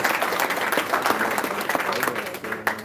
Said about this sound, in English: We clap the good friends, yes